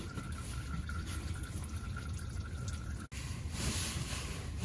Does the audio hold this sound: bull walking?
no